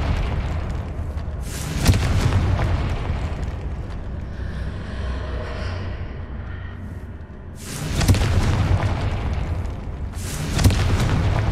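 Blasting spell explosions in the Hogwarts Legacy video game, with two loud booming bursts, one near the start and one around eight seconds, and a third near the end, each a broadband blast over a rumbling low background.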